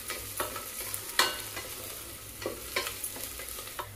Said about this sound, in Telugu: ఉల్లిపాయలతో పాటు ఒక 5-6 పచ్చిమిరపకాయలు కూడా ఇలా సన్నగా కట్ చేసుకొని ఉల్లిపాయలతో పాటు బాగా ఫ్రై అయ్యేంత